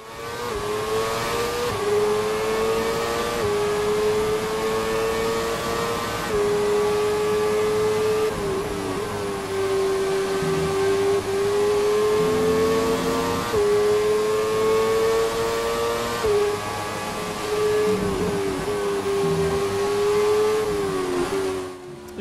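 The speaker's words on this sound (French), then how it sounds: "Et on vous laisse profiter du son de ce V8 hybride Renault qui fonctionne pas si mal" Renault V8 hybrid Formula 1 car engine in the F1 2017 racing game, a loud sustained high-pitched whine that rises and falls through gear changes for the whole stretch, heard alone without talk.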